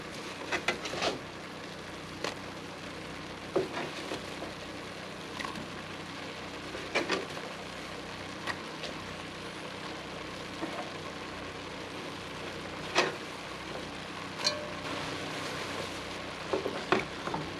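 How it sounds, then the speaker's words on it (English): Onion added to moose meat frying in a pot on a stove turned low, a soft steady sizzle with scattered clicks and stirring scrapes, fairly faint throughout. "It'll continue cooking, but I'm going to add my onion now"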